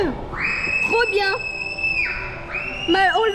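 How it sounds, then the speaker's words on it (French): A child shrieks on an amusement park ride in Slovakia, with long high wails that rise and hold, fading in and out over steady background noise, heard fairly far off without any talking. "On entend hurler Malo."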